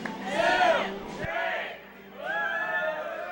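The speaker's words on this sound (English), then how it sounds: "Dirt really firing up the crowd, cheering for their home team of Toronto." Crowd at a women's final cheering for the home team Toronto, with loud swelling shouts and whoops that rise, dip briefly, then surge again close by.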